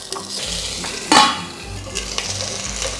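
Vegetables sizzling in hot oil in a pan, with a spoon stirring and scraping against the metal and one sharp clatter partway through, all close up.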